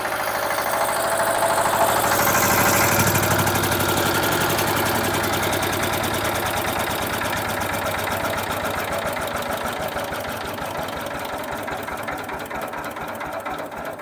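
A 10 kVA diesel generator engine with a 10-litre diesel tank runs steadily at close range, giving a continuous, loud mechanical drone with fast rhythmic knocking throughout.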